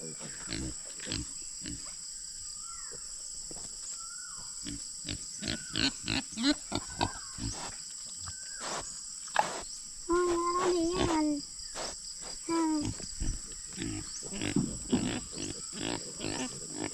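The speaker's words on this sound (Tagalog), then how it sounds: "nakahuli na po tayo ng isang baboy" A pig grunts and oinks repeatedly in short bursts on a farm while it is chased and caught to be sacked, with insects buzzing steadily in the background and a few louder squeals near the end.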